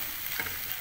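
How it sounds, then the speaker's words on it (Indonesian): Chicken skin fries in hot oil with a steady, close crackling sizzle that holds evenly throughout, with no voices. "kita goreng ini sampai harum"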